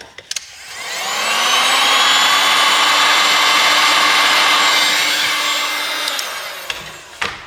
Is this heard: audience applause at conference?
no